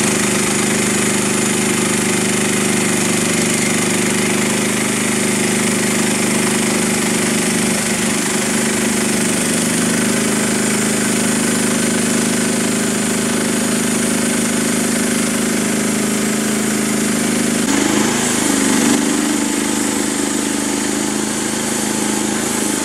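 A gas chainsaw runs continuously at a steady high idle, a loud buzzing two-stroke drone with a brief change in pitch near the end, and no talk over it.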